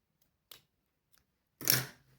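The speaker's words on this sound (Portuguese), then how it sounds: "Esse excesso de zíper aqui, você pode cortar agora, tá?" Scissors snipping off the excess length of a zipper while sewing a built-in pocket, a few faint small snips followed by one louder, longer close cut, with quiet gaps between.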